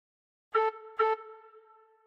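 Two short, gentle tin whistle notes at the same pitch come one after the other, and the second lingers into a soft echoing tail. No one speaks.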